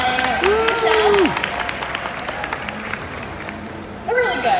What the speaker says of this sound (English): can everyone give a round of applause to my sous chefs?